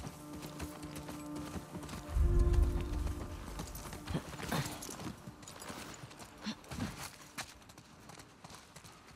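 Horse hooves in The Last of Us Part II, a steady clip-clop of a ridden horse on the move, with a louder thudding moment early on and irregular hoof strikes continuing at moderate distance.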